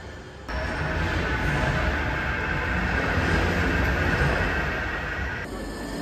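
A train rumbles steadily through a railway station platform in Leeds. The noise is loud and close and holds level for several seconds, with a faint high squeal above it and no speech.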